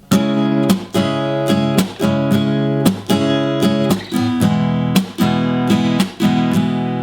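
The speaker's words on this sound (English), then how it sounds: "That's when we cover up the strings with our palm and chuck through with the pick on the now muted strings." Acoustic guitar strummed in a steady rhythm, with sharp palm-muted percussive chucks from a pick striking the deadened strings at regular intervals, close and clear with no talking.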